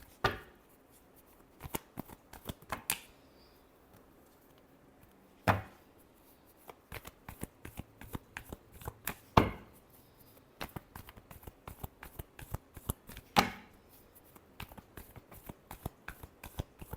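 Tarot cards being shuffled by hand, with repeated riffling flicks and sharp snaps coming in irregular clusters, close and clear with no talking.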